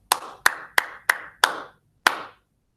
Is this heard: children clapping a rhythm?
yes